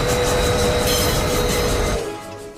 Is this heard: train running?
yes